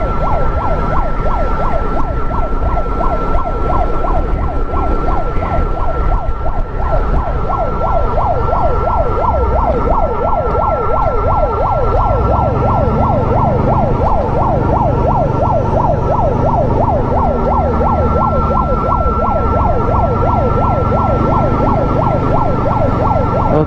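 Ambulance siren wailing continuously and loudly just ahead of a following car, its rising-and-falling tone steady throughout over road and engine rumble, carrying a patient.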